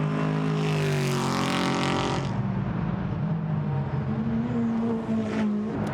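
A McLaren 570S GT4 race car runs down Cooper Straight at Brands Hatch during qualifying, its engine note rising loud and sustained with steady harmonic whine and no voices over it.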